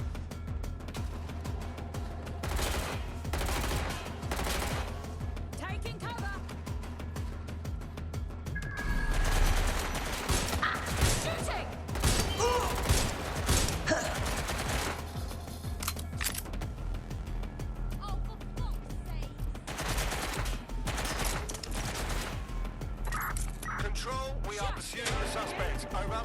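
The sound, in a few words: gunfire in the video game Watch Dogs: Legion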